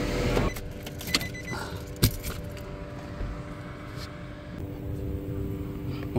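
Idling car engines at an RV campsite give a steady low hum, with a few sharp clicks and a brief jangle of keys over the top.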